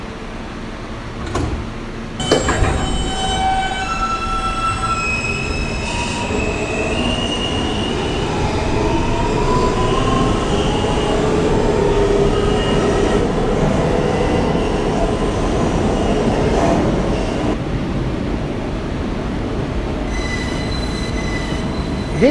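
A New York subway F local train bound for Coney Island–Stillwell Avenue, running between stations, heard from aboard as a constant heavy rumble with thuds at the start and long rising and falling wheel squeals along the way, no speech.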